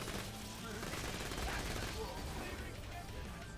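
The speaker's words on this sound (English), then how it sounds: "this one is just shooting" Rapid gunfire in the video game Azurelands 2 crackles as a dense, continuous burst running the full length. It sits under game sounds and other noise at a fairly low level.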